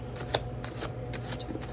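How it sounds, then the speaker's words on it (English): Tarot cards riffled in a quick, steady shuffle, a close papery flutter with a few sharper snaps, alone without any talking. "Do a quick shuffle."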